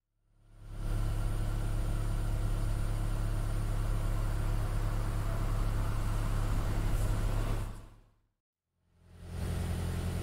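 Steady low rumble of engine and road noise inside a moving car in real-world traffic, picked up by a vehicle-mounted microphone array. It fades in, holds constant for about seven seconds, cuts out briefly, then returns.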